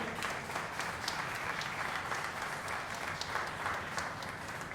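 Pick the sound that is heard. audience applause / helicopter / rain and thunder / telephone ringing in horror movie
audience applause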